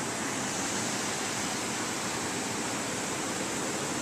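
Flooded brook rushing across a washed-out driveway, a dense, even roar of fast-moving water filling the whole space, steady and close with no pauses.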